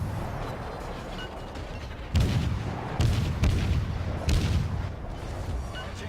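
Naval gun volleys in World of Warships boom out in three or four heavy, close blasts, each followed by a rumbling roll, over a steady low background hum.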